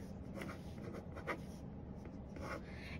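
Pencil drawing on paper for a letter to Santa, a close, quiet scratching in short strokes and pauses, with light rubbing between marks.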